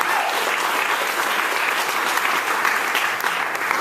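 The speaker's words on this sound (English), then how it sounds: "And yes, you can clap for that." An audience at a summit gathering claps steadily, a dense even wash of applause lasting several seconds without break.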